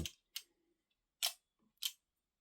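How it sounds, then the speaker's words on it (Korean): Four sharp metallic clicks and slides, close and quiet, come from the bolt carrier being pulled back on a miniature alloy AK-47 model gun, with no talk. "볼트 캐리어 쪽은 그냥 이렇게 뒤로 당겨주시면"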